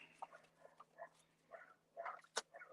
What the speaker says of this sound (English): My dog is outside barking.